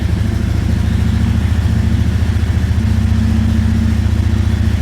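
An ATV engine, just started, settles into a steady loud idle with an even low throb, running alone with no talk.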